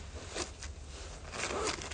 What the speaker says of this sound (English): So yeah, it zips completely up.